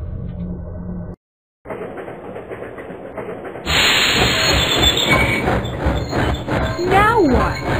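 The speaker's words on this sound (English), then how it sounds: "It's the fifth time this train has stopped." Train running in the video game Steppenwolf: The X-Creatures Project, a steady rumbling carriage noise with hissing steam, swelling louder partway through with squealing, braking wheels as it comes to a stop; a brief silent gap near the start.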